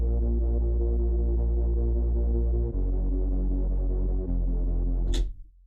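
A layered hardstyle bassline programmed in FL Studio, with a sub layer under an upper-bass and low-mid layer, plays as a loud, sustained throbbing drone with two brief dips before cutting off with a short bright burst.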